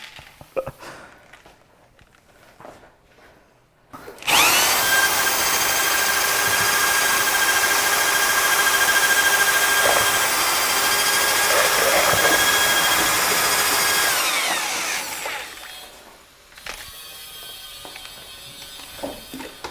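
A power drill mixes a classic white pottery glaze, a loud, steady whirring roar that starts abruptly, holds for about ten seconds and then winds down, with quieter handling sounds before and after.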